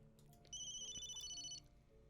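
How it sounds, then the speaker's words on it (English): A telephone rings once in the Memento Mori video game, a faint, steady electronic trill lasting about a second over a quiet background. "Colonel Ostankovich is on the phone."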